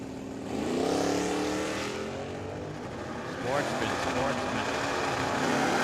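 Drag racing at Firebird Motorsports Park: a diesel-powered BMW and a 1970 Dodge Challenger launch and accelerate hard side by side, engine roar rising loud and close with a second surge midway, under a track announcer's voice.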